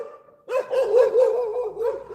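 Puppies barking and yipping in a lively, continuous run of short vocal bursts, close and fairly loud, starting abruptly after a brief quiet moment with no talking.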